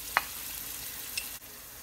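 Onions browning in a pan for rice and peas, with a soft continuous sizzle and a couple of sharp clicks from stirring, quiet and close.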